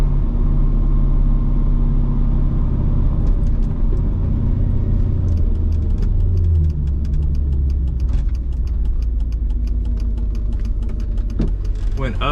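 Mercedes C55 AMG with the M113 V8, running rich, revs loud and close, then the throttle is released and the engine burbles down as it decelerates, with a voice speaking over it.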